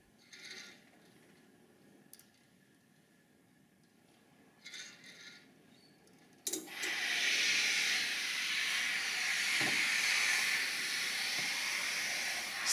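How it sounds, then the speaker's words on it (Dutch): Steam iron pressing a pillowcase on an ironing board: faint handling and rustling at first, then a sudden loud, steady hiss of steam that continues to the end. "Strijk met stoom van rand naar rand."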